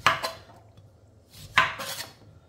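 An organic lemon is sliced with a knife on a board, giving a couple of short, close cutting and clattering bursts with quiet pauses between them and no talk.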